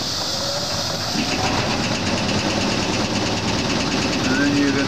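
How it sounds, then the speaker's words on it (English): The shaker motor of an Oliver 80 gravity table seed separator runs steadily, a dense mechanical rumble and rattle at even loudness throughout, close by with no talk. "Run will start the shaker motor."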